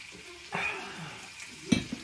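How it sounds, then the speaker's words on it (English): Ginger-marinated beef for lok lak sears in a hot pan, giving a low steady sizzle broken by a few scrapes and a sharp knock of a utensil near the end. "I'm going to leave that there. Just sear all the outside."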